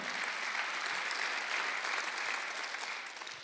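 A church congregation at a Sunday worship service applauds in a steady, dense wash of clapping from many hands, somewhat distant and fairly quiet, fading slightly toward the end.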